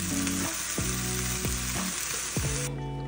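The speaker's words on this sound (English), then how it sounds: "we're going to cook the ham" Ham slices sizzling steadily in a hot pan, a loud continuous frying hiss broken by a few sharp scraping stirs, close and alone with no talk.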